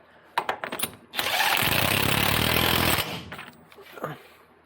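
A power tool tightens the pinion nut on a Dodge AAM axle with a loud buzzing impact burst of about two seconds, set between scattered clanks and handling knocks.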